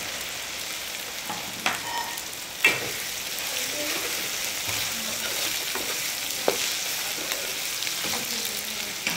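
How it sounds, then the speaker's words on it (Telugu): Eggplant pieces fry in a pan with ginger paste for a brinjal curry, a steady close sizzle with a few sharp stirring clicks and scrapes over it, no voices. "ఇప్పుడు ఇందులో మనము వంకాయలు కూడా వేసేసుకుందాం."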